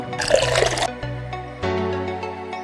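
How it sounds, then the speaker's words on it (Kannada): Two glasses of water pour into a sambar pot in a short splashing rush lasting under a second, followed by a ringing, resonant hum from the kitchen. "2 ಗ್ಲಾಸಷ್ಟು ನೀರು"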